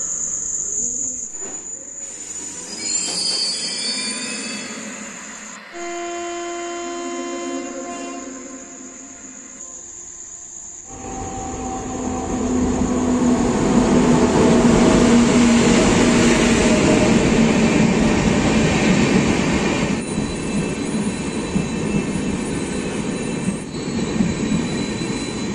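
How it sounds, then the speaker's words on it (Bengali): A train passes through a station with rising wheel squeal and a building rumble that swells and holds loud for the second half, after an opening stretch of crickets and insects chirping nearby. "একটা ট্রেন আসছে সেটা চলে গেল"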